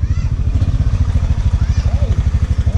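Several motorcycle engines idle and rumble close by in a steady low pulsing throb, with people talking faintly in the background.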